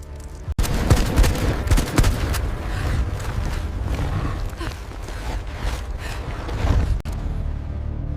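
Sustained gunfire during a sci-fi survival horror movie battle: dense, crackling volleys of shots layered over a heavy, rumbling roar, continuous and loud for the whole stretch with two brief sharp dropouts.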